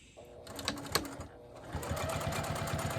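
A sewing machine stitches a bowl cozy in short bursts, a quick rapid whir starting and stopping before running steadily toward the end, close and fairly quiet.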